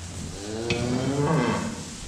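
Cattle in a big barn during a herd test in rural France, with a couple of deep moos rising and falling in sequence, loud and close, no talking.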